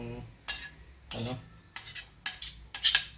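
Chopped jicama and ripe mango are tossed together in a bowl, giving several separate clinks and scrapes of a utensil against the bowl, close and fairly quiet, with short pauses in between.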